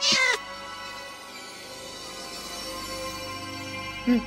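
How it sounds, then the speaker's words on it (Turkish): A Minecraft cat meows briefly at the start, with a second short meow near the end, over a steady low background hum. "Lan kedi miyavladı."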